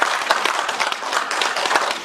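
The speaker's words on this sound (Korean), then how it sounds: "이의가 없으시면 박수로 채택해 주시기 바랍니다" Audience applause at the founding promoters' assembly of the Korean National Sovereignty Party, approving a proposal: steady, dense clapping from a room of people, moderately loud and continuous throughout.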